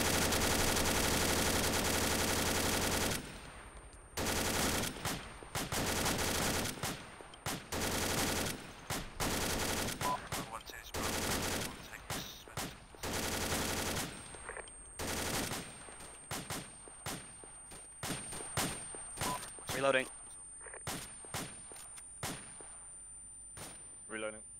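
Machine gun bursts in the video game ARMA 2 during a co-op game night firefight, a dense opening volley followed by repeated short bursts and single shots with clanging echoes, loud and close, with no talk over them.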